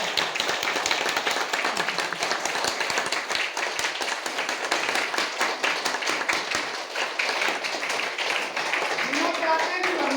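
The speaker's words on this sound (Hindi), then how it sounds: "मुस्कुराइए, खूब मुस्कुराइए, ताली बजाइए" An audience at a meeting claps, a dense, continuous rattle of many hands that stays loud and close for about ten seconds, with a voice speaking over it at times.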